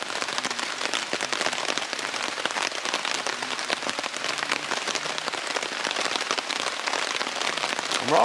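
Steady rain falls on a forest camp, a dense continuous patter of drops close by, loud and even throughout with no voices.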